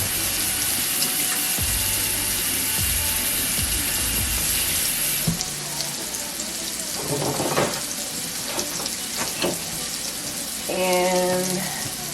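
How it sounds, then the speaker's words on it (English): Hands are washed under a running kitchen water tap: a steady, close rush of water for about five seconds, followed by lighter splashing and a few clinks from the sink. "Wash my hands."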